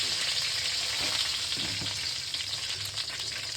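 Cumin and fenugreek seeds crackle in hot oil as tempering for radish sambar, a close, steady sizzling hiss with soft stirring scrapes.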